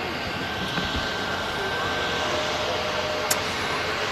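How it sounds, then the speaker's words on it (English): Icelandair Boeing 737 MAX taxiing at Manchester Airport: a faint, steady engine whine and broad rushing hum at a distance, continuous for a few seconds with a brief high tick near the end. "Obviously the Iceland Air Max taxiing in."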